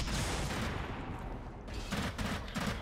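Rapid bursts of automatic gunfire crackle loudly from a weapon in the video game Blacklight Retribution, coming in dense repeated volleys with a brief pause in the middle.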